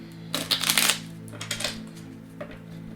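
Brisk papery riffling of tarot cards being shuffled, a loud burst followed by a couple of shorter flicks, close and alone against a faint background hum.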